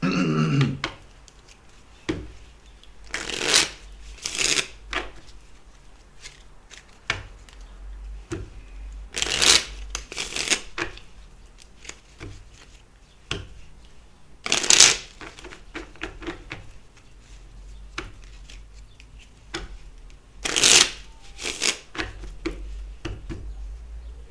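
Tarot cards being shuffled in repeated crisp riffling bursts, each a second or so long, separated by quieter handling noises and pauses, close up and with no talking.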